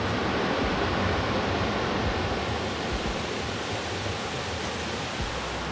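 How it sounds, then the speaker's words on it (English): Steady rushing water flows without a break, a broad continuous wash of a creek running close by along the Alum Cave Trail in Great Smoky Mountains National Park, with no voices over it. "So far we've been hiking along this creek the entire time."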